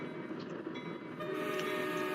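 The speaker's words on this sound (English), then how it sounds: "the train was now underway" A train pulling away from a siding as it gets underway, a steady rumble of moving rail cars with tonal whine and horn-like hum that swells slightly louder in the second half, with no talking.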